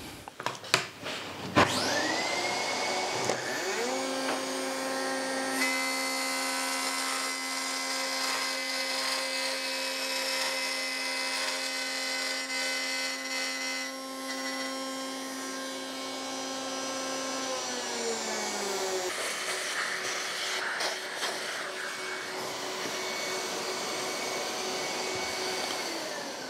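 A wood router runs steadily for about 15 seconds cutting a kumiko jig, its high whine holding a constant pitch before winding down near the end, loud and close with no talk.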